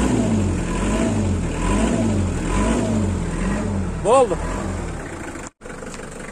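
The engine of a Hyundai Porter truck runs with a steady low drone that rises and falls in gentle revs, ending with a brief sharper rev, while someone speaks briefly nearby.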